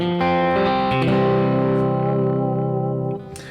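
Electric guitar played through a Fractal FM9 modeler with distortion: a picked run settles into a thick, gritty held chord with a chorus-like shimmer, loud and close, trailing off near the end.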